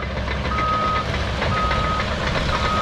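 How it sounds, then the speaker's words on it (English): A Huber gravel truck backs up with its reversing alarm beeping at a regular pulse three times, over a rumbling diesel engine. "There's our next load of gravel, Brian, in the Huber truck."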